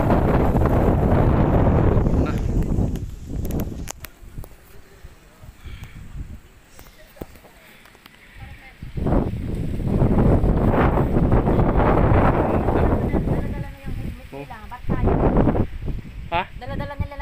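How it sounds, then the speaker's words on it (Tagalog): Strong, gusty wind on a hilltop roars across the microphone in heavy buffeting bursts, with someone talking intermittently underneath. "Lakas ng hangin dito banda sa may taas mga kadrim."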